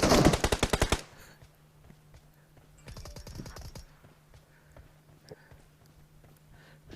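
Automatic weapon fire in the mobile game PUBG Mobile: a rapid loud burst of about eight shots at the start, a shorter burst of shots around the middle, then quieter game ambience.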